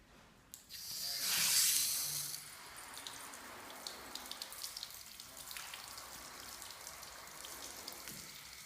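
Water sprayed onto a motorcycle during a wash test: a loud hissing burst of spray that swells and then settles into steady close spattering and dripping on the bodywork, with no voices.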